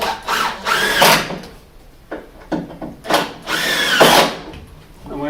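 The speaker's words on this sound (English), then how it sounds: "let me back this screw out and adjust that to the mark" Power drill backing a screw out of wood during interior room renovation work in Japan, several loud whirring bursts of varying length separated by short pauses, close up.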